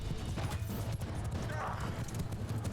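Cavalry horses' hooves pounding during a battle in the medieval combat game Mount & Blade II: Bannerlord, a dense, continuous clatter of galloping mixed with battlefield noise and a voice talking over it.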